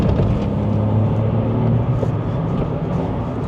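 A VW Up GTI engine pulls out of corners with a loud, steady low drone and rumble heard from inside the car, while a voice talks over it.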